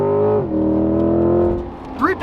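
A Lamborghini Aventador engine revving at launch, a loud sustained roar that holds steady and then drops away, with a voice rising at the end.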